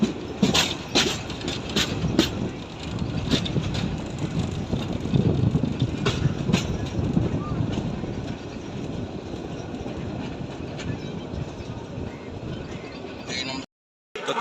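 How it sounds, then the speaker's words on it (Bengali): Local train at Tista railway station in Bangladesh, rumbling and clattering with rhythmic wheel knocks under ongoing voices, fading toward a brief silence at the end. "তো তিস্তা স্টেশনে দাঁড়াইলো ট্রেন"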